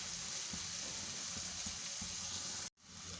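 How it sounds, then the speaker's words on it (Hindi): Bitter gourd (karela) frying in a pan gives a steady, dense sizzle, with soft spoon taps at regular intervals. The sizzle cuts out briefly near the end, then resumes. "गोल्डन होने तक हम करेलों को फ्राई करेंगे।"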